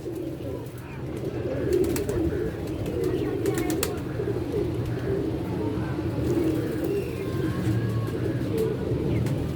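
Pigeons coo in a low, continuous murmur throughout, close and steady, with occasional faint chirps and sharp clicks over the top.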